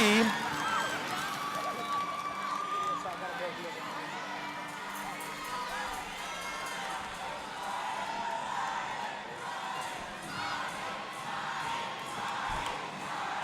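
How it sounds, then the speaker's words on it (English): A roller derby crowd at a game between LADD and TXRD cheers in a steady, distant roar, heard under a commentator talking continuously. "Oh, you hear the crowd."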